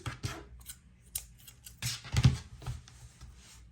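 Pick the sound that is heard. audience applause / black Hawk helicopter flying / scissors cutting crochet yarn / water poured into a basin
scissors cutting crochet yarn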